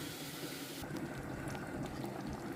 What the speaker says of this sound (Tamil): இப்போது இந்த போட்டி எடுத்து இதோட ஊற்றிடலாம்